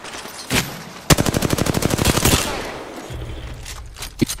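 Gunfire in the video game Apex, a single shot followed by a rapid burst of loud automatic fire lasting over a second, then a low rumble and one last faint crack.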